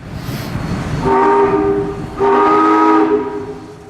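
Horn of GSMR locomotive 1702 at Dillsboro, two long chord blasts with a short gap between, loud and clear over quiet surroundings, each fading as it ends.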